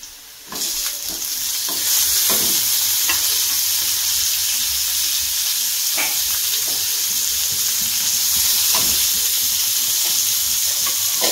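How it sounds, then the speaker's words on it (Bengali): Onions and tomato frying in a pan, a loud, continuous sizzling hiss that swells after the first second and holds steady, dotted with occasional soft stirring clicks. "দেখো পেঁয়াজগুলো একদম লাল লাল করে ভাজা হয়ে গেছে। এবারে এর মধ্যে আমি টমেটোটা দিয়ে দেবো।"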